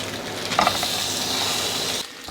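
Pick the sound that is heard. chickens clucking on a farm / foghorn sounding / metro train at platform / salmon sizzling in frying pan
salmon sizzling in frying pan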